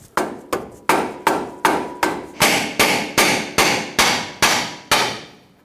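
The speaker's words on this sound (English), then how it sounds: "take a hammer or rubber mallet, tap this down as you put pressure on it" Hammer blows tapping down on the lower control arm ball joint of a 2012-2019 Fiat 500, loosening it from the knuckle: about a dozen sharp, close metallic strikes in a steady rhythm, growing slightly louder, with no talk.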